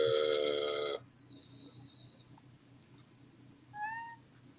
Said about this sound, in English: That cat is really distracting.